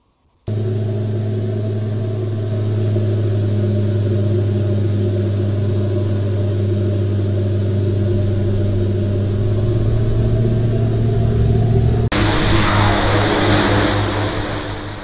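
A loud simulated Boeing 787 engine in the X-Plane 11 flight simulator makes a continuous droning roar with steady tonal whine. The roar builds slightly, then shifts to a rougher, broader rush near the end.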